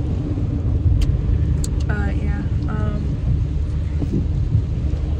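A car drives through heavy rain at night, with a steady loud roar of rain and road noise throughout and a voice speaking briefly over it.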